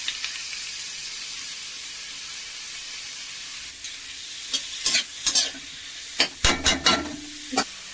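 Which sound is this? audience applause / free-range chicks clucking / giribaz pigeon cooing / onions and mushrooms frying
onions and mushrooms frying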